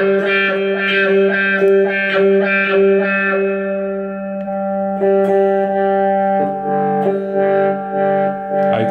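Distorted electric guitar run through a Zoom G2.1Nu multi-effects pedal with a Vox-style wah, sustained chords and notes sweeping in tone, loud and close, alone without talk.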